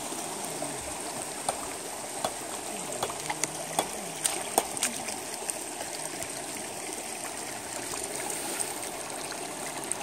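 A forest stream in deep old-growth jungle flows and trickles steadily and close by, with small splashes and gurgles scattered through the continuous rush and no voices.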